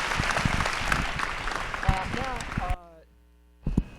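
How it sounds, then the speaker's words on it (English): Audience applause at a college fundraising evening, a dense burst of clapping for nearly three seconds with a voice speaking over it, cutting off abruptly before a short final flurry. "One more round of applause for Kevin,"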